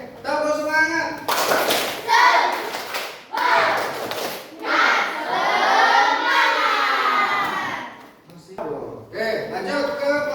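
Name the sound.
class doing tepuk semangat spirit clapping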